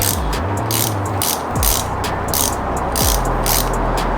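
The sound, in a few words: torque wrench tightening bolts to spec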